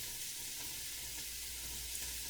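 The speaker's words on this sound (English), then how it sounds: "I'm going to stir it around here and let it cook for about 10 minutes" Zucchini sizzles and fries steadily in a pan as it is stirred, a continuous close crackle with no talking.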